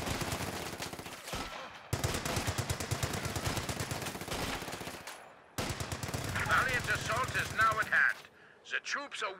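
Rapid automatic fire from FG42 rifles trades with paratrooper gunfire in a video game battle at long range, long dense bursts broken by brief silences, with scattered pops and echoes near the end.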